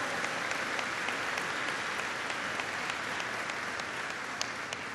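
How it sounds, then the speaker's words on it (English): Steady, dense applause from a large audience at a political rally on the American Jobs Act bus tour, sustained and even throughout with no pauses. "Don't just applaud about it."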